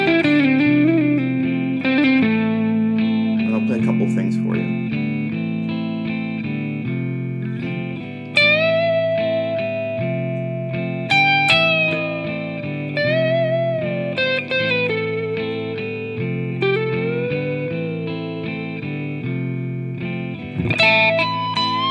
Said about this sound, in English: This is where I'll turn my distortion on.